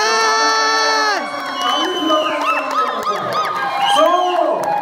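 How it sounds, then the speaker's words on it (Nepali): A live show audience cheers loudly, with whoops and shouts from many voices rising and falling over a steady crowd roar. "ठुलो ताली चाहिन्छ भन्दै हुनुहुन्छ पछाडिबाट"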